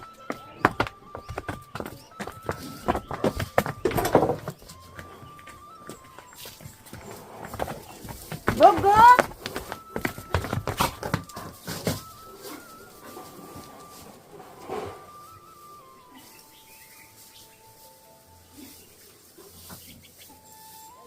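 A buffalo walks in from outside on a Pahadi village homestead, its hooves clopping in irregular steps close by, broken by bursts of handling noise while a person talks and coaxes it over the sounds.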